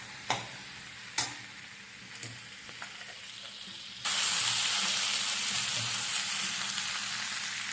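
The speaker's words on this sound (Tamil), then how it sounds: "எண்ணெய் ஊற்றி வச்சு நல்லா இப்போ வதக்கணும்" Okra frying in oil in a pan for a ladies' finger and tomato kuzhambu: a few sharp stirring clicks over a low sizzle, then a loud, steady hiss that surges up and holds close by.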